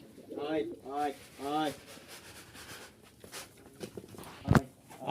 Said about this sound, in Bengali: এখানে কিন্তু আমাদের অনেক কবুতর আছে